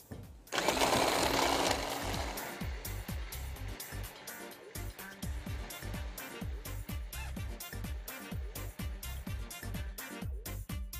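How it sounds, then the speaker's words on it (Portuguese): A kitchen food processor starts with a loud whirring burst, then keeps running with a rapid, pulsing mechanical chatter, close and steady to the end. "o processador vai entrar em ação."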